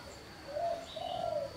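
A spotted dove or zebra dove, a wild-caught tekukur or perkutut, coos twice in two low, smooth, drawn-out phrases, fairly close and clear against a quiet background.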